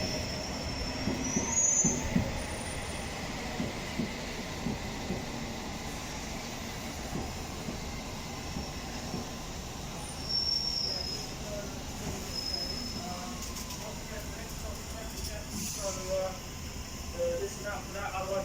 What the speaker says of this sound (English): there's another Metropolitan line on platform 1